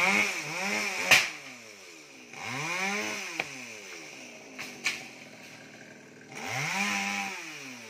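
A chainsaw cuts down a very tall coconut tree, over fifty years old, standing close to a house. The engine revs in repeated loud bursts that rise and fall, with short pauses between cuts.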